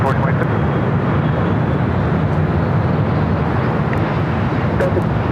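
A Sun Country airliner takes off at LAX, its engines a loud, dense, unbroken roar from start to finish, with no pauses or distinct events.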